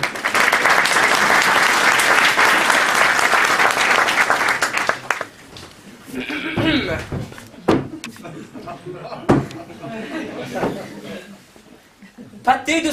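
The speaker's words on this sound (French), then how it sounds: "Acclamons notre futur roi et longue vie à Chédéric de Piclefisc." Crowd applause at a staged medieval-style crusade homecoming performance, loud and sustained for about five seconds, then dying away into scattered claps, chuckles and indistinct voices.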